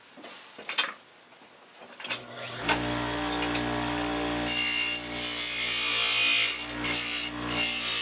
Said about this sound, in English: I'm going to use the large stone to shape the partial